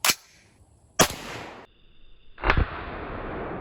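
Three sharp cracks from a 30 caliber AR-15 rifle cartridge punching through 3/8 inch steel, spaced about a second apart, each a sudden loud burst with a short ringing tail and a faint steady tone between.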